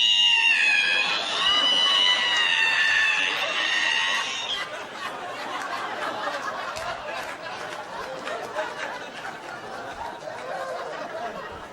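A voice imitates a creaking ironing board being opened: a high, wavering, strained squeal like a creaking hinge, followed by a noisy crowd laughing and chattering.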